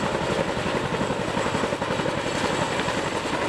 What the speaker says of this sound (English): The Chinook can carry heavy loads using a sling suspended from the bottom of the helicopter.